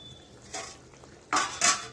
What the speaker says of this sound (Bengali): এর ভালো করে নেড়ে দেবো একবার।